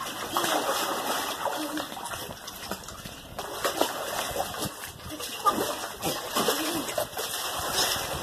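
Water splashing in a backyard pool, continuous churning and splattering for several seconds with bird sounds and faint background voices mixed in.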